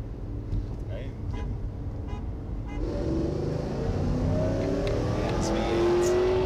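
A 2017 Subaru WRX accelerates hard in second gear, its engine note climbing steadily in pitch and loudness from inside the car while people talk briefly.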